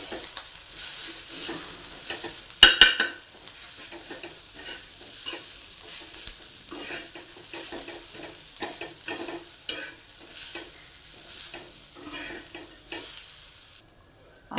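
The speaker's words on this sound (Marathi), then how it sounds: "हळद टाकून घेऊ आणि आता हे चांगलं परतून घेऊ आपण" Ginger, garlic, green chilli paste and turmeric sautéed in a pan, with a steady sizzle and repeated scraping stirs of a spatula running the whole time, close and fairly loud, one sharp clatter near the start.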